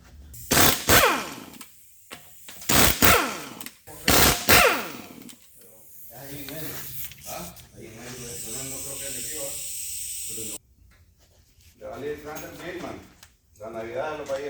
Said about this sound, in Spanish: vamos a remover las tuercas. Estamos usando un dado 22